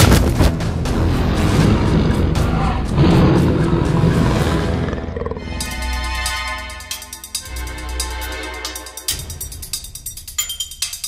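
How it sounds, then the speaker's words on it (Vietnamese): A leopard roars in an animated 3D folk-tale cartoon, a loud, dense roaring burst for about five seconds, then quieter rumbling and sharp tonal hits follow. "Đây là tiếng gầm của con báo."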